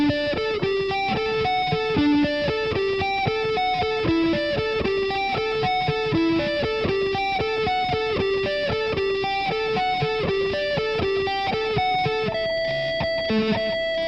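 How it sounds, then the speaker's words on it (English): Distorted electric guitar plays the intro lick, a fast, steady cycling pattern of picked notes, loud and continuous throughout with no talking. "now the last time through this intro lick, going into the verse of the song, when the vocals come in, is going to sound like this"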